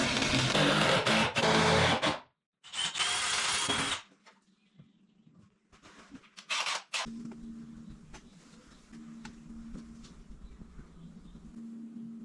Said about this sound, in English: I am securely fastening each stair plank with screws using a drill machine